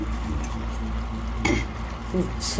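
A spoon stirs groundnut pulusu, a tamarind stew with potato, onion, tomato, sambar powder, salt and groundnut powder, in a pot. Brief scraping strokes sound over a low simmering background, close and fairly quiet.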